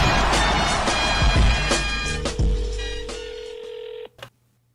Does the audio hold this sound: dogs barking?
no